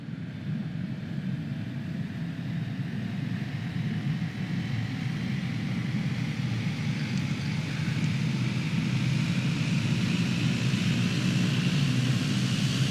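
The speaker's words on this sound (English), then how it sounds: "Let this engine fire up." A Pilatus PC-12 turboprop engine spools up in a flight simulator game, a steady loud drone with a rising whine that holds throughout, no voices over it.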